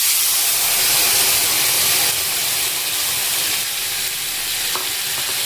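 Nigella seeds and a ground paste of mustard, cumin, ginger, green chili and tomato sizzle loudly in hot oil for a fish curry, with a continuous close hiss and spatter and a faint stir partway through.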